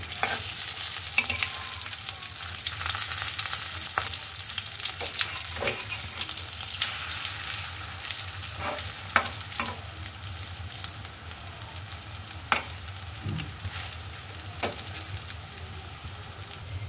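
Pumpkin leaves fry in a pan and are turned over. A constant soft sizzle runs throughout, with scattered clicks and scrapes from the flipping utensil.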